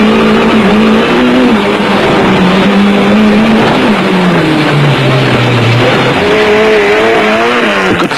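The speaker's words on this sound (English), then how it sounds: "More racecam action from the Kutsia Leek Toyota illustrates that off-road racing is no Sunday drive through the park" Engine of a Toyota off-road race truck roaring continuously from an onboard position during a 1992 off-road race at Caledon, South Africa, its pitch rising and falling through gear changes, loud and close with rough terrain noise throughout.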